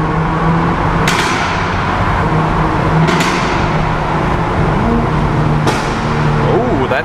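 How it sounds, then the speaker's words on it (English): A Hyundai i30N with an aftermarket-sounding exhaust rumbles ahead in traffic, a loud, continuous droning engine with several sharp cracking pops, heard close from a following car. "there's an i30N Hyundai in front of us. Ooh! That really sounds aftermarket-like,"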